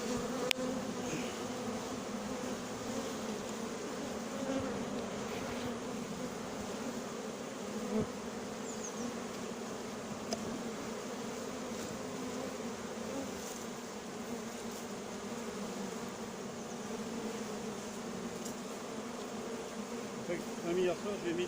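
A colony of honeybees being installed in a new hive makes a steady, dense buzzing that persists close and loud throughout, with faint voices in the background.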